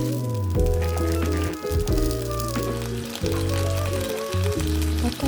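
Soju poured into a hot pan of hard clams (baekhap), a rushing sizzle and bubbling that holds for several seconds, with a tonal musical bed running underneath.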